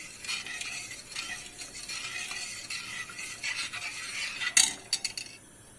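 A spoon stirs sugar syrup steadily in a pot on the stove, scraping and swishing with a faint sizzle beneath, ending in a few sharper metallic clinks.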